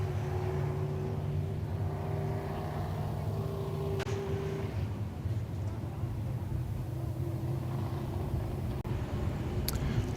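Stock cars running hot laps at 81 Speedway in the Allied Battery stock car class, engines droning steadily at a distance, a continuous layered roar with no break.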